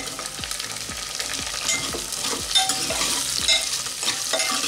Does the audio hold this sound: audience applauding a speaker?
no